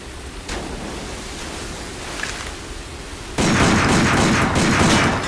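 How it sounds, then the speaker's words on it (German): Handgun fire at a sign in the Binary Domain video game, a few faint shots over a low hum, then a louder burst of rapid crackling shots near the end, no talking. "Nimm deine Handfeuerwaffe und schieß auf das Schild."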